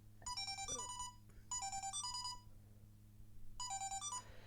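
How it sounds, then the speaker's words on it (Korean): A phone ringtone sounds in three separate bursts of a chiming electronic melody with short gaps between them, fairly faint over a steady low hum, with no talk. "또 전화네."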